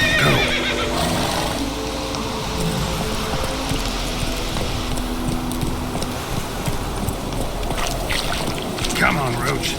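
A horse neighs and gallops in The Witcher 3, loud whinnies over a continuous, dense rush of hoofbeats and movement noise that holds steady throughout.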